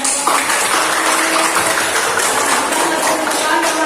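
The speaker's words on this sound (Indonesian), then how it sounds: "jadi tepuk tangan dulu untuk kelompok" Classroom of students applauding a group at a school lesson, steady dense clapping filling the room, with faint voices mixed underneath.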